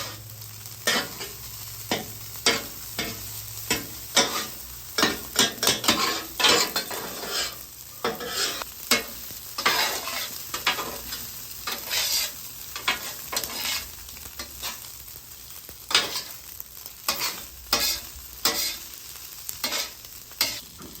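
Garlic butter fried rice tossed on a flat-top griddle, a constant sizzle broken by rapid repeated spatula scrapes and clacks against the metal, close and busy, with no talking.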